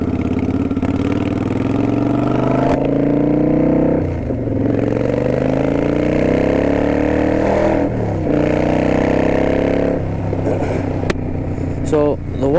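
A Kawasaki Vulcan 900 Custom Special Edition with Freedom exhaust pipes rumbles in a deep, throaty idle with rising and falling revs, close and loud, while someone talks over it throughout.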